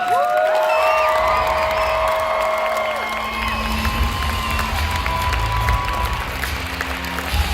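A large audience at a summit event cheers and applauds for Magic Johnson, loud crowd roar with whoops and shouts over steady clapping throughout, with a few voices calling out.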